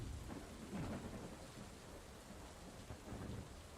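A steady wash of heavy rain in a thunderstorm, with low rumbling thunder rolling underneath throughout, continuous and enveloping with no voices.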